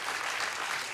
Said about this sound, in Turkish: Bir alkış daha alabiliriz.